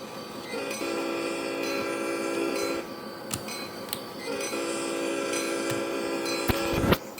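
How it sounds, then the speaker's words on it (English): A Metra train horn sounds two long, sustained multi-tone blasts separated by a short gap, with sharp clicks and knocks scattered between and after them. "That's actually a pretty good horn."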